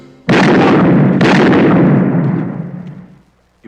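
A loud gunshot blasts out, followed by a second booming shot that echoes and rolls away over a few seconds before a brief final thump.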